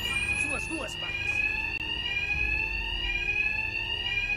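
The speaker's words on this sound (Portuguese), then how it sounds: "Meu ataque será abafado pelo barulho do alarme." A fire alarm rings continuously in the video game Batman: Arkham Knight, a steady, piercing, high tone running throughout with a voice talking over it early on.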